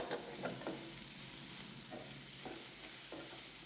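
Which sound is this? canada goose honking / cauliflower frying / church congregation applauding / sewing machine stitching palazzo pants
cauliflower frying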